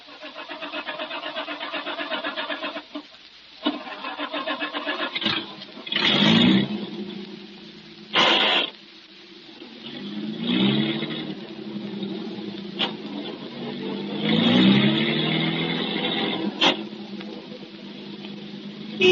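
A car engine cranks and catches, revs unevenly and drives off, the motor rising and falling in loud surges with pauses between, a staged radio-drama effect with no voices.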